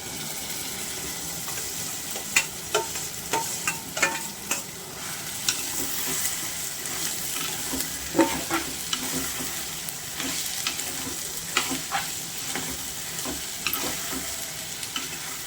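Ridge gourd and ginger frying in a pan while being stirred, a continuous close sizzle broken by regular scraping knocks of the spoon against the pan, with no voices.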